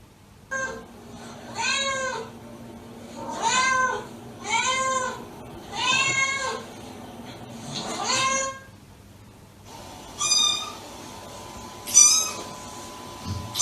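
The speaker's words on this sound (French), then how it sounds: "Je vais lui mettre des bruits de chat qui miaule." Recorded cat meows play back one after another, about seven drawn-out mewing calls at a steady pace, fairly close over faint background noise, with a higher, thinner pair of calls near the end.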